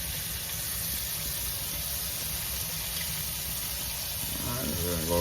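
Beef pieces searing in a hot pan for stew give a steady, dense sizzle and hiss that holds at an even level throughout, with a faint clatter near the end.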